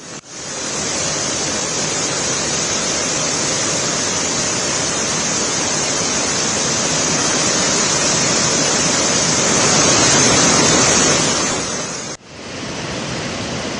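Floodwater from a swollen river at Sahastradhara roars as one loud, dense rush with no let-up and no voices, breaking off briefly near the end.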